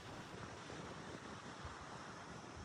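Cool coastal wind and surf on a wild Vancouver Island shore, a steady, even broadband wash of waves and gusting air, faint overall, with no voices.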